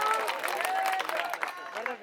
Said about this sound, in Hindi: ताली बजा दो इसके लिए एक बार